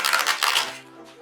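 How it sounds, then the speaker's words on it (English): A deck of playing cards being shuffled, a short, close riffling burst of papery flutter lasting about a second before fading out. "we have to shuffle the cards"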